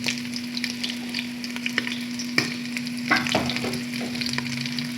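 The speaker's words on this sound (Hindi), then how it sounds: "गोश्त को फ्राई करते हुए हमें 5 मिनट हो चुके।" Beef frying in a pot with cumin and whole red chilies for a yakhni pulao, giving a steady close sizzle with scattered pops and a few stirring scrapes throughout, no voices.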